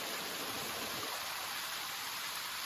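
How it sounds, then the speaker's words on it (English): A waterfall along the Appalachian Trail gives a steady, broad rushing hiss of falling water, continuous and fairly even in loudness, with no voices over it. "Check out the waterfall."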